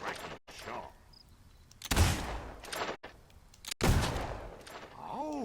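Shots ring out at a shooting gallery in Fable II, a few loud, sharp cracks spaced seconds apart with echoing tails, separated by quieter ambient game sound and chirpy effects.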